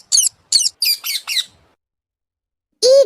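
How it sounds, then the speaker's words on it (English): Parrot calls: five quick harsh squawks in a row, then a pause and one more loud screech, close and clear with no other sound. "parrot"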